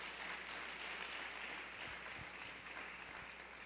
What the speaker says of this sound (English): So can we give all of them a round of applause?